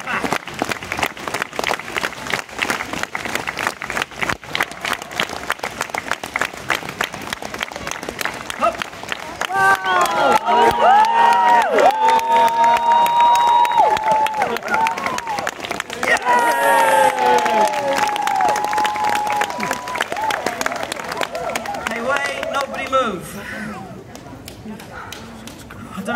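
Street show crowd clapping in a slow, steady rhythm with cheering, loud and close, while a performer's voice calls out over the claps.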